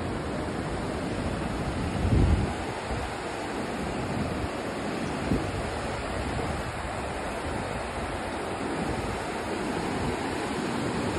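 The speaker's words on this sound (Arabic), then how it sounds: "فيها شلالات حلوة." Rhine Falls at Schaffhausen, Switzerland roaring as a steady broadband rush of water, loud and unbroken throughout with a couple of brief low thumps.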